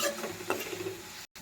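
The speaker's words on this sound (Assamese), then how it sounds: "এইখিনি মই অলপমান মিক্স কৰি ল'ম।" Coriander, cumin and turmeric powder with salt get stirred in a pan for a fish curry with cauliflower and bamboo shoots, a brief, quiet scraping sizzle up close.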